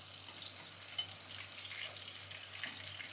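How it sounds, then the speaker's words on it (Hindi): Chicken pieces fry in hot oil for Hyderabadi wedding-style chicken, giving a constant close sizzle with a soft crackle near the start, and no talking. "अब हम 3 मिनट दूसरी साइड भी इसी तरह से फ्राई करेंगे।"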